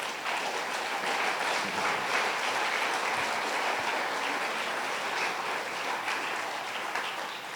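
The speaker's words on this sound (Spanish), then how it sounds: "dale un gran aplauso al Rey" A church congregation applauds steadily and loudly for several seconds, a dense, even wash of clapping with no voices rising above it.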